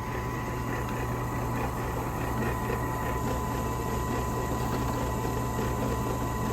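A drill motor whirs steadily and loudly while drilling a knife blank, a constant droning hum that runs throughout without pause.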